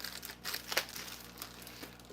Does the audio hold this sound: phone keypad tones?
no